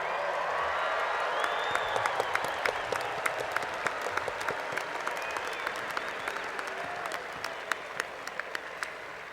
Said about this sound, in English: ask the audience to recognize your achievement again with applause